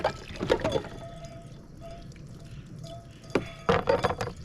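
Water pours from a water container to rinse pans at a campsite. Short splashing gushes come at the start and near the end, with quieter trickling and drips in between.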